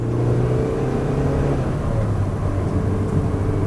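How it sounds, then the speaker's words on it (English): A car engine in a car with a manual transmission hums and revs steadily at close range, a continuous low drone with rising tonal whine and no voices. "my wife's car revs much faster than my Corvette."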